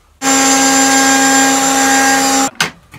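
A router cuts a slot in wooden guitar neck stock, running as a loud, steady high-pitched whine for over two seconds before cutting off abruptly, followed by a brief clatter.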